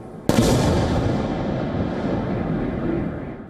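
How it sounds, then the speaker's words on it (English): A sharp, sudden blast from a wartime attack on Kyiv cracks out near the start, followed by a long rolling rumble that slowly fades away. "And explosions thunder across Kyiv"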